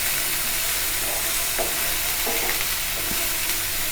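Ridge gourd pieces fry steadily in oil in a pan, giving a continuous loud sizzle with a few soft stirring scrapes, and no voices.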